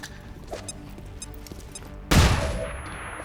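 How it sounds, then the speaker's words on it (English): A flashbang grenade goes off in the XCOM 2 strategy game, a sudden loud blast about two-thirds of the way through that decays into a ringing tail, following a quieter stretch of game ambience. "So flashbang will have to do."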